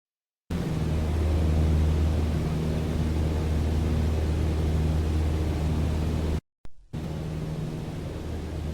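A Cessna 152 light airplane engine drones steadily while cruising, heard from inside the cabin as a continuous loud hum with steady low tones, broken once by a brief cut to silence near the end.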